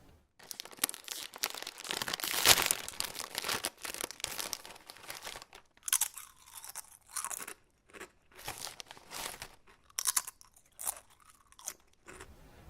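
Crunchy snack being eaten close up, with repeated loud crunches and chewing bites in irregular bursts, plus crinkling of a wrapper and no talking.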